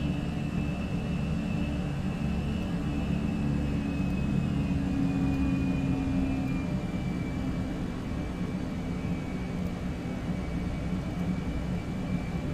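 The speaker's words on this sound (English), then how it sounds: "That's the sound design they've done on this aircraft is top notch." Steady, loud jet engine drone of a Fenix A320 airliner in Microsoft Flight Simulator, a continuous low roar with a faint high whine gliding slowly downward, unbroken and alone throughout.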